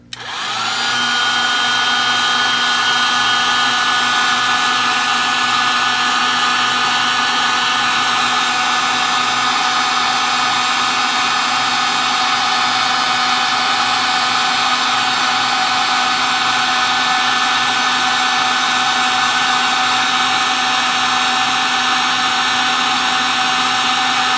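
Heat gun blowing hot air onto FUCUNN solder seal wire connectors, a loud, steady whirring hiss that starts abruptly and runs unbroken at close range with no talking.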